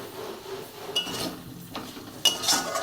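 A spoon scrapes and clatters against a pan while onion, potato and spice masala fry, with several sharp metallic knocks standing out over a faint sizzle, close and fairly quiet.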